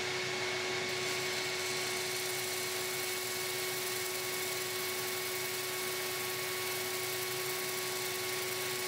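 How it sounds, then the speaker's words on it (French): An old, modest-sized Makita workshop vacuum runs without pause, giving a steady, loud, close motor whine and airflow hiss with a constant pitch. "Là, c'est mon vieux Makita, un aspirateur d'atelier normal, pas très gros"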